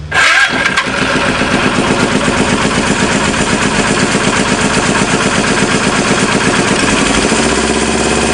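Engine idling under LIVC control, running steady and loud with a rapid, even pulsing beat throughout, close to the microphone with no talking.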